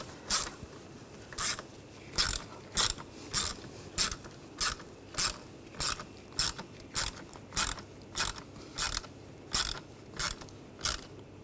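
Screws securing the wiring harness on a 2007-2013 BMW X5 3.0L inline-six engine are tightened with a ratchet, a close, even series of about eighteen sharp clicking bursts in steady rhythm, with no voices.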